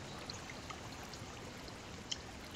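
Flowing water in Minecraft, a steady soft broadband rush with faint scattered droplet ticks, quiet and continuous with no talk.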